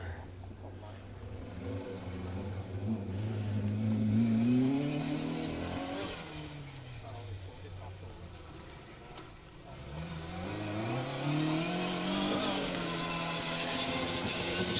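A Mark II Ford Escort rally car passes on a Woodpecker Stages Rally forest stage, its engine revving and rising in pitch as it approaches, easing off, then accelerating hard again, loud and close throughout.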